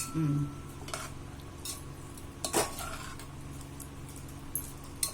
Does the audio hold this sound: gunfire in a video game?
no